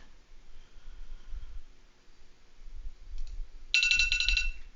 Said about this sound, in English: that's my alarm to tell me it's 8 o'clock.